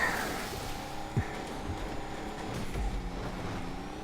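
An off-road truck's engine in Grand Theft Auto V, driven during an off-road race, drones steadily and fairly quietly as the throttle is pushed, with a couple of brief bumps over the ongoing hum.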